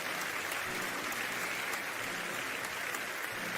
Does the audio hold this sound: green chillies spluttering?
no